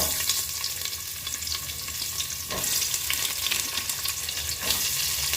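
Chopped onions fry in hot oil for vegetable green biryani, making a dense, steady close sizzle with occasional stirring scrapes.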